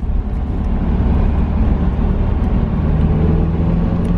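Lowered-then-lifted Mazda Miata on a test drive, a loud, steady low road and engine rumble from inside the car that runs throughout and cuts off abruptly at the end, with no talking.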